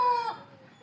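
A hen of an old Indian breed gives a single brief, close cluck-like call while laying eggs on a poultry farm, fading quickly into quiet.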